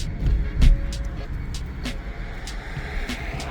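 A Lexus LS430 fitted with Nissan 350Z wheels drives on a test run, giving a steady low road and engine rumble with a few brief clicks and ticks over it.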